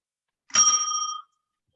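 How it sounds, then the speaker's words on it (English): A small hand bell gives a single clear, bright ring that lasts under a second and cuts off against total silence. "prepare your ears because I'm going to ring my little bell"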